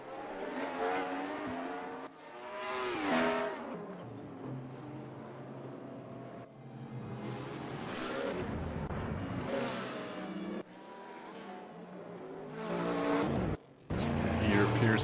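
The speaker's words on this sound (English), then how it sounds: "Oh, the Nissan has such an ugly exterior sound." Nissan GT1 race car engine in the RaceRoom video game at Brno, loud harsh revving that rises and falls through gear changes, with passing cars and a person talking over it.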